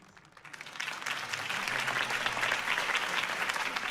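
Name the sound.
crowd applause after a campaign speech in Batman: The Telltale Series video game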